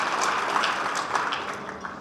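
A crowd of young delegates at a diplomats' opening ceremony claps together, a dense, even wash of applause that holds steady and slowly thins toward the end.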